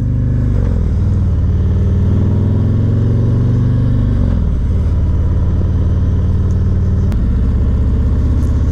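A police motorcycle engine holds a steady throttle at a leisurely pace, its loud, close rumble droning evenly with a slight drop in pitch midway and road and wind noise underneath.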